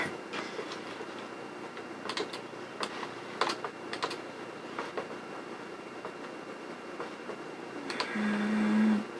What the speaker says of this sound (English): Maybe you guys can benefit from seeing me use the keyboard.